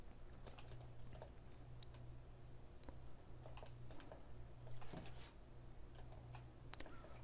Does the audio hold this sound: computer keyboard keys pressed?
yes